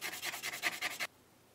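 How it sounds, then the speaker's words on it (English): Short, rapid back-and-forth rasping as the bottom of an olive shell is sanded for a necklace, about nine quick strokes over a second, close and fairly quiet, then silence. "And then I'm going to sand the bottom."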